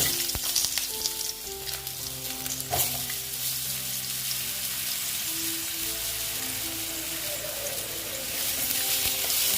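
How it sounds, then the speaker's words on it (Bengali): Potatoes frying in a pan after a cumin tempering, for a fish curry with cauliflower and lentil dumplings, giving a steady close sizzle with occasional stirring scrapes and clinks throughout, no voices. "আলুগুলো ভেজে নিচ্ছি"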